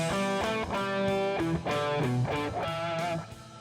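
Electric guitar riff played with a tense, hard picking attack, a loud distorted tone with sharp repeated note onsets and sustained chords over a few seconds.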